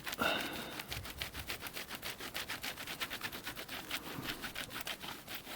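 Excess glue being shaved off a foil fishing lure: a close, steady run of quick scraping strokes, rhythmic and dry, with no talking.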